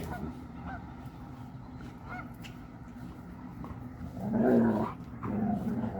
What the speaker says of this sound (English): Now we have a massive crossing of geese across the lake.